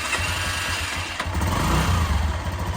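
A barn-find Honda CG 125 motorcycle engine idling with its idle speed slightly off, a steady low chugging putter with fairly even rhythm, heard close and moderately loud with no talk.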